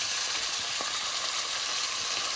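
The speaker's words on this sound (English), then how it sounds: "You want to hear the sizzling. That means that the oil is at the perfect temperature and you make that crust." Quail sears in hot oil, giving a loud, dense, continuous sizzle and crackle that holds steady without a break, close to the pan.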